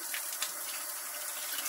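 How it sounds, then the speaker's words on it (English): Hot water rushes and splashes through a milking machine during rinsing, a steady, faint hissing gush like a running tap. "Rinse that out real good."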